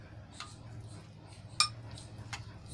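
A spoon stirs raw mango chutney mixed with a spoonful of groundnut oil, giving three faint, brief clinks against the bowl over a low steady hum.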